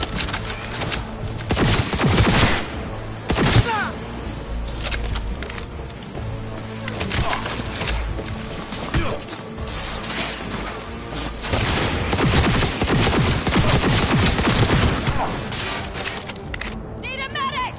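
Dense gunfire in Cyberpunk 2077, rapid bursts and loud overlapping shots rattling almost nonstop, with voices shouting over the firefight.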